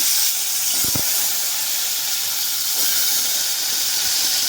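Pieces of hog plum hiss loudly in hot oil tempered with five-spice, a bright, steady sizzle close up with a brief knock near the start.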